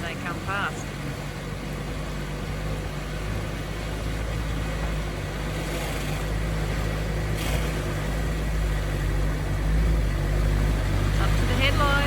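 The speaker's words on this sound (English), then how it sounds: "They're going to try and splash me as they come past." 4WD vehicle driving through river water: constant broadband rush of splashing water over a low engine drone, growing slightly louder toward the end, with faint voices underneath.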